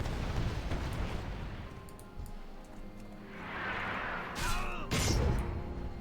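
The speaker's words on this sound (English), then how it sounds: "There's an explosion." A video-game explosion in World of Warcraft: Mists of Pandaria Classic, heard as a sharp, loud broadband blast near the end, after a rising whoosh, over a steady bed of game ambience and effects.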